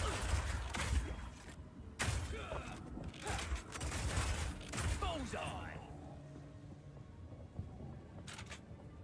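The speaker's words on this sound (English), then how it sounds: "your power shot hits a weak spot and does a huge amount of single target damage" Power Shot skill firing in the video game Path of Exile 2, a few heavy booming impacts and blasts beneath steady narration.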